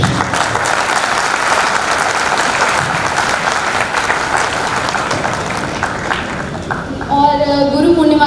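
Audience at a Guru Purnima celebration applauding, a loud, sustained round of clapping from a crowd that fades near the end as a voice and music come in.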